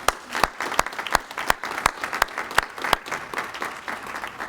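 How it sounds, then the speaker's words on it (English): Scattered clapping at a community hall of fame ceremony, sharp separate claps in a steady rhythm from a small audience, fairly close. "can we just give them a round of applause for this?"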